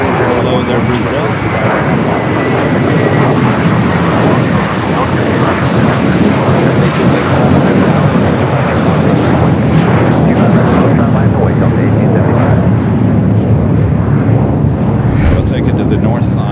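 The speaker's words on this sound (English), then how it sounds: "The Latam, we haven't had this as a south side departure in quite some time. Flight 2479 heading to Lima, Peru, the 17-year-old 767." A 17-year-old LATAM Boeing 767 jet departs LAX for Lima, its engine roar loud and sustained throughout as it powers down the runway, with a voice speaking over it.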